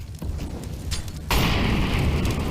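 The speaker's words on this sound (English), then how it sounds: "Great incendiary being thrown there by Destroyer to try and buy them some time" An incendiary grenade thrown in the video game CS:GO during a competitive match on Mirage or Inferno, a sudden loud burst that settles into a sustained roar of flames over steady background game noise.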